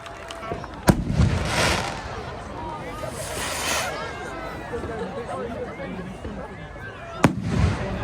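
Distant Bonfire Night fireworks at Blackpool Cricket Club boom and crackle, with two sharp bursts standing out against a steady background of crowd chatter and rumble.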